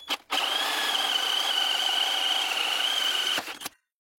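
A drill with a hole saw grinds steadily through material for about three seconds, loud and close, with a constant whining tone before stopping abruptly.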